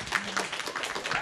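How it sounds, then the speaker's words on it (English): An audience claps for Henry at a student public narrative event, a brief burst of scattered, moderately loud applause with no talking over it. "Let's clap for Henry."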